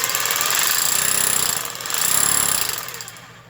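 A DeWalt DW567 rotary hammer runs in two bursts, its striker hammering rapidly, loud and close, rising and falling as the tool is pressed.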